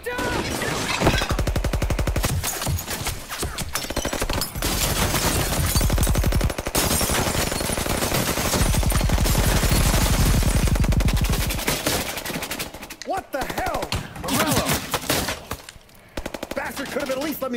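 Sustained Tommy gun bursts from 1920s gangsters in fedoras during a restaurant shootout in Mafia Definitive Edition, loud rapid automatic fire running almost continuously with brief pauses and crashes, thinning out near the end.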